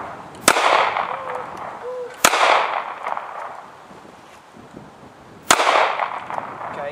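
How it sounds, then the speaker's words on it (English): Three sharp, loud handgun shots at an outdoor shooting range, spaced a couple of seconds apart, each a crisp crack followed by a ringing echo that fades before the next. "Don't put your finger on the trigger till you're ready to shoot."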